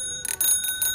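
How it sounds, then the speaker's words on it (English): Bell chime on a Razor Ecosmart Metro electric scooter: a few bright, ringing dings close to the microphone, each leaving a sustained metallic tone, with no talk. "the chime of the bell is a little bit more friendly"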